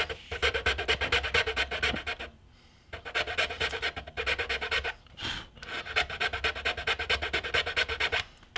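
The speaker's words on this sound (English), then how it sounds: "if I come in with my file, I can carefully and gently cut in that little bit of detail." A hand file rasps across a cast resin Star-Lord helmet in close, rhythmic back-and-forth strokes, grouped in three bursts separated by brief pauses.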